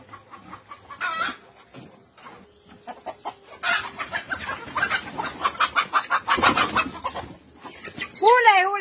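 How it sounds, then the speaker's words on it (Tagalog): Neighbor's chicken clucking and squawking agitatedly while being caught, bursts of loud cackles near the mic amid rustling and a voice. "mahuhuli tayo ng manok"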